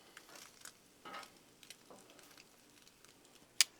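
French toast sticks are cooking on a Blackstone griddle, and faint, quiet sizzling comes with scattered soft taps and scrapes as they are moved around. One sharp click near the end stands out, and no one is talking.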